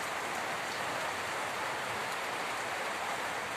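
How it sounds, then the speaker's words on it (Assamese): Heavy rain falls in a steady, dense, hissing roar that stays unbroken throughout, with drops drumming on surfaces nearby during a storm in Rupahihat, Nagaon. There is no voice, only the even wash of rain. "ৰাতিপুৱাৰ পৰাই বৰষুণ আৰু ধুমুহা দি আছে"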